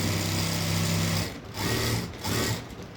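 Sewing machine running a straight seam along the back of a blouse, a loud close whirring drone in steady bursts with brief pauses between runs.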